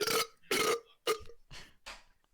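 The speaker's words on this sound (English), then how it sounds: "Can I burp? Yeah, it's a loud one" A person lets out a loud, drawn-out burp in several guttural pulses, close to the mic, the later ones fainter and breathier.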